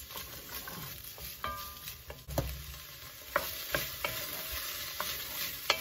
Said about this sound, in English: let's pop that garlic in. Give that a couple of minutes.